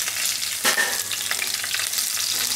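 Cumin seeds and green chilies hit hot oil with a dense, loud hiss and crackle, a brief burst of spattering near the start, steady throughout and free of talk.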